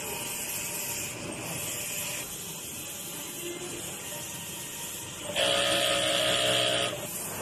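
A two-head wide-format printer runs a head clean cycle, giving steady mechanical whirring and pump hum with a louder, higher buzzing burst near the end, close and continuous without speech.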